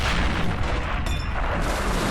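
Artillery fire and a tank gun shot from a T-34 in a Men of War: Assault Squad 2 battle, a loud continuous din of booming and rumbling with a brief burst near the middle, no voices.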